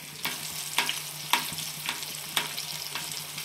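Oil sizzles and crackles in a pan for frying crispy chicken leg pieces, with short spitting pops repeating every half second or so under a low hum.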